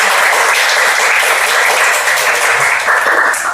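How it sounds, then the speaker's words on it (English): Loud, sustained applause from a room at a Toastmasters meeting, many hands clapping in a close, continuous roar that stays level throughout. "please give her a big round of applause."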